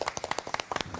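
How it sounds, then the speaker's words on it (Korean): A studio audience at a Korean TV broadcast claps to welcome armless painter Geumgok Seok Chang-hu, a brief burst of several quick, fairly close hand claps with no voices. "금곡 석창후 화백 큰 박수로 모셔보겠습니다"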